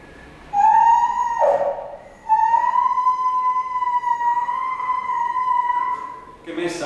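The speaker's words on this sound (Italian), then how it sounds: "Che messa all'interno della tuba viene amplificato il suono e sembra un suono incredibilmente acuto" A thin, high lip-buzz vibration amplified inside a tuba sounds as a piercing sustained whistle-like tone, with one brief dip and then a long steady note, close and loud with slight wavering.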